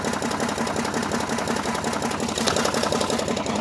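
A mud beast engine idles low and steady right after a cold start, its continuous rough chugging loud and close with no talk over it.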